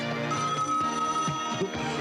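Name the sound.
voice imitating a telephone ringing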